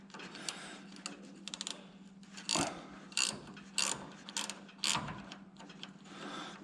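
A ratcheting end wrench turns a 3/4 bolt up close, its pawl clicking in quick uneven bursts with short pauses between strokes. No one talks.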